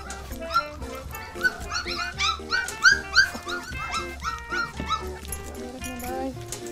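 A litter of twelve flatcoat retriever puppies whimpers and yips close by. The high, overlapping cries rise and fall continuously, with a soft low rumble underneath.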